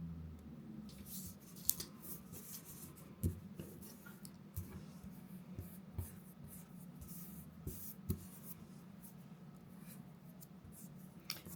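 Pen scratching across paper while setting up journal pages, a steady soft scribbling with faint strokes and small taps throughout, close and quiet with no talk.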